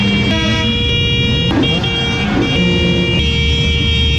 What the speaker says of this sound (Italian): Io l'ho stunnato quel cacchio di clacson.